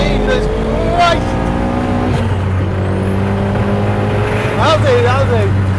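Ford Sierra Cosworth running high boost and accelerating hard, a loud close engine drone with rising revs and gear changes, heard from inside while people talk over it.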